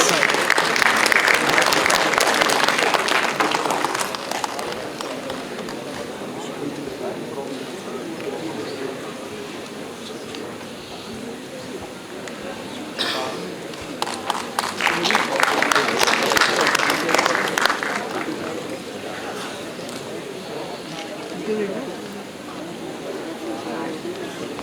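A conference audience at an international conference applauds in two bursts of dense clapping, the first right at the start and the second partway through, with quieter room murmur in between.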